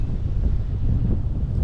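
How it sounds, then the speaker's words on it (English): Strong wind buffets the microphone on a hiking trip near Mount Wondabyne in a constant, loud, low rumble that fluctuates slightly throughout. "If it doesn't tell you how windy it is"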